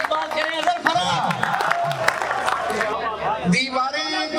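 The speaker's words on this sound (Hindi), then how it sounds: "आपकी भरपूर तालियों में उठकर इस्तकबाल करें अजहर फराज" Audience at a Dubai mushaira applauding to welcome poet Azhar Faraz, with clapping, cheers and crowd murmur mixed under a voice speaking over it, ending with a brief pause.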